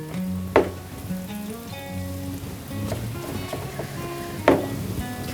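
Mikate dough fries in a large pan of hot oil, a steady close sizzle with a few sharper pops and crackles standing out over the bubbling hiss.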